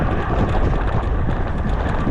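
Heavy wind buffeting a microphone at an Ironman triathlon in New Zealand, a loud, continuous low roar with gusty fluctuations and no voices.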